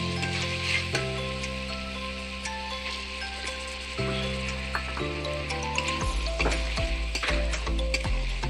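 Pork liver sizzles in a frying pan as ground spices are tipped in, a steady close fry with stirring scrapes and a low humming tone running underneath throughout.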